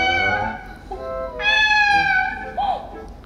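A person imitates a cat meowing: a series of drawn-out, nasal, rising and falling meows at close range, voiced loudly by a human, with a short higher mew near the end.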